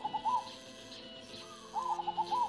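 A zebra dove's soft, rapid cooing phrase repeats twice, bubbling and rhythmic, fairly close against a quiet background hiss; recorded from a forest area near Bandealit, Jember, Indonesia.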